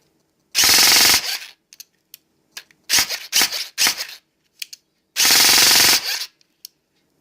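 An airsoft gun fitted with an ASCU Gen4 and an M120 motor fires loud, close, rapid full-auto bursts: three long bursts and several short ones, separated by silence.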